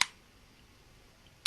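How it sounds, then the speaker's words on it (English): A camera shutter, likely a single-lens reflex, snaps open at the start and shuts with a second sharp click about 1.4 seconds later, with near silence between the two crisp, close mechanical sounds. "the shutter is that curtain that opens and closes and allows light to pass through"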